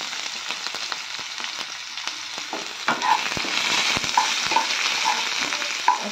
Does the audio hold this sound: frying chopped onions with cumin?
yes